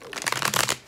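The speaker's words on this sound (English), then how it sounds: "I just reshuffle them again" Tarot cards riffle and flutter in a quick, close shuffle that lasts under a second.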